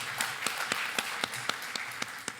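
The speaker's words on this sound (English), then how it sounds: "Let's give everybody a round of applause for that." An audience claps at a speech, sounding as sparse, evenly spaced claps about four per second that are quiet and a little distant, with no talking.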